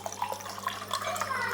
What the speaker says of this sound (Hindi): इस गिलास में जो है ना ये पूरा पानी इसको डाल लेंगे